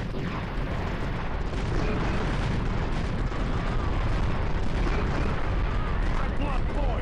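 Explosions and gunfire as a machine gun nest is destroyed in the strategy game Empire Earth II, a dense, continuous rumble of booms and bursts with someone talking over it.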